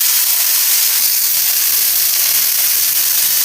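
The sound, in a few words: potatoes frying and being stirred in a pan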